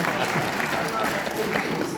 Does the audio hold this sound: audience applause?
yes